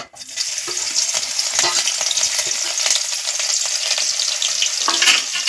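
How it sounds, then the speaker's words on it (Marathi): Green chillies dropped into two spoons of hot oil for tempering, a steady bright sizzle with occasional stirring and spattering, close and continuous. "आता त्याच्यामध्ये आपण हिरवी मिरची टाकू म्हणजे याची फोडणी घ्यायची"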